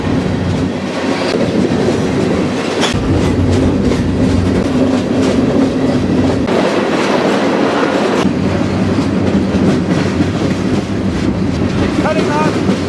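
A freight train rolls along a main line with a steady, loud rumble and rhythmic clickety-clack of wheels over rail joints, the heavy noise continuous throughout as the cars pass close by.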